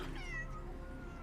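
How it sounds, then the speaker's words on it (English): Cat meowing in the survival horror video game Chronos: a single drawn-out meow with a rising then falling pitch, close and clear over a low steady background hum. "follow the sound of a cat's meow so that you can pat them"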